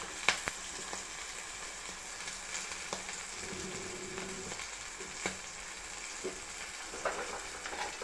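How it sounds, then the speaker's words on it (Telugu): Green chillies and garlic fry in oil for gongura chutney, giving a soft, steady sizzle with occasional sharp clicks and scrapes of stirring. "గ్రీన్ చిల్లీస్ కొంచెం ఫ్రై అయినాయి. ఆ తర్వాత వెల్లుల్లి వేసుకోవాలి."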